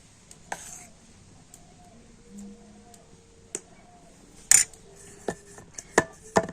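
A bowl of pitha batter is tapped a few times on a hard surface over banana leaf, giving sparse, sharp knocks and light clatters, quiet and close, with more frequent taps toward the end.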